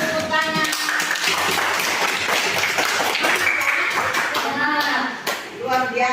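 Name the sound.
children clapping hands in a classroom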